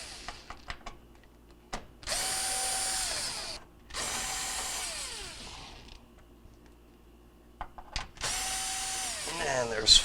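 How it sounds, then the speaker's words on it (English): A power drill backs quarter-inch screws out of a GE stove panel, whirring in three separate bursts of about two seconds each, with clicks and handling noises in the short pauses between them. "Take off this panel here with a couple of 1/4 inch screws."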